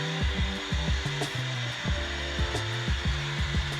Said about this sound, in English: So you finish off the joint with a sander.